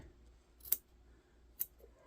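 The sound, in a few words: small squeezer scissors snipping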